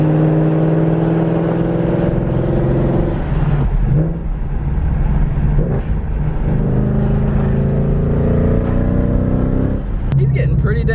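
A Ford Mustang GT S550 fitted with a Borla Atak exhaust downshifts, its loud engine tone dropping and rising in pitch through several gear changes, steady and close throughout.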